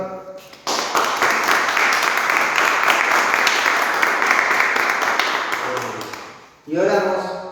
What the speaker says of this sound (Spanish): vamos a dar un fuerte aplauso al Señor.